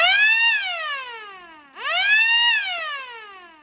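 A loud siren on a rocket launch station sounds two rising-then-falling wails, each climbing sharply and slowly sliding down, near and clear with nothing else over it.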